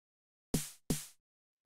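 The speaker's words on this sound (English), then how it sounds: "the last thing that I have here is this 909 snare" A 909 snare drum sample struck twice, each a sharp, bright noisy crack with a quick decay, isolated against silence.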